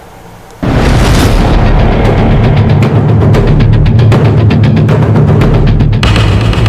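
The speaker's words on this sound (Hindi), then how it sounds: "अचानक एक ऐसा धमाका हुआ, इतना जबरदस्त विस्फोट हुआ कि यह मदरसा पूरी तरह फट गया।" A loud explosion blast at a madrasa erupts suddenly after a quiet moment and becomes a sustained, heavy roar with crackling debris and rumbling.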